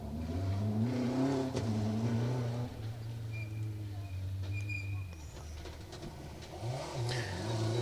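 A rally car's engine revs hard and close on a forest stage, rising and falling through the gears with a throaty drone, as a commentator talks over it.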